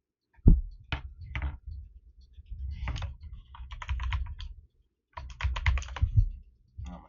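Close, steady clatter of typing on a computer keyboard during gaming, with bursts of rapid keystrokes, a brief pause, then more quick tapping.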